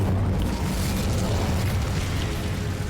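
Incendio fire spell from Hogwarts Legacy, cast against a huge spider: a continuous roaring, rushing burst of flame with a deep rumbling low end, loud and steady for a few seconds.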